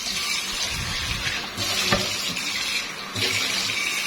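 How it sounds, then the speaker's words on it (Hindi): Tap water runs steadily into a pan being rinsed in a kitchen sink, a close, continuous splashing rush with slight shifts in flow and no talking. "सबसे पहले पैन को जो है थोड़ा सा मैं खंगाल लूँगी पानी के"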